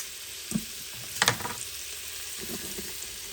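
Cup of mushrooms sautéing in butter in a pan, with a soft continuous sizzle and a few clinks and stirring scrapes near the start, fairly quiet and without talk.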